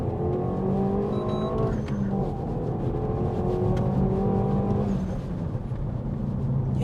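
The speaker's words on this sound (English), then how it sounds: "you can hear the throatiness of the exhaust" Volkswagen Golf R exhaust heard from inside the quiet cabin, a low steady engine drone with rising and falling tones as the car pulls, continuous and moderately loud with no talking.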